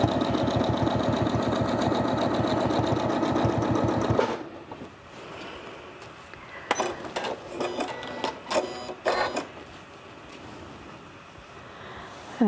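A sewing machine stitching through a quilt runs in a fast, steady mechanical chatter for about four seconds, then stops, followed by quieter rustling and handling of fabric with a few soft clicks.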